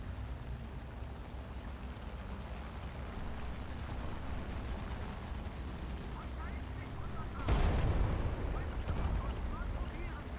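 A Super Pershing tank in a video game lets off a single heavy cannon blast, loud and close against a low rumbling battlefield background, with speech at times.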